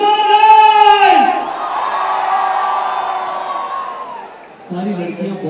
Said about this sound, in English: Crowd, come on, make some noise!